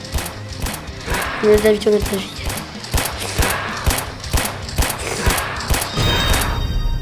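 Rapid bursts of gunfire from the Roblox game Zombie Arena crack out at a steady, repeated rhythm throughout, running under a voice speaking French.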